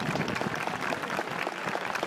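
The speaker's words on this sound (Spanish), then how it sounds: "Un aplauso para Inmaculada y para toda la hermandad" Audience applause at the Fiestas de Santo Domingo in Alcorcón, honouring Inmaculada and the brotherhood on a cold evening outdoors, a steady dense patter of many hands clapping throughout.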